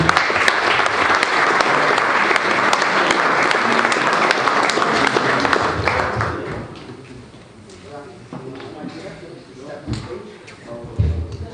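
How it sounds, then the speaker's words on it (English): Audience applause for Zaki at a community football awards ceremony, loud dense clapping for about six seconds that fades out, followed by quieter room sounds and voices. "Round of applause for Zaki."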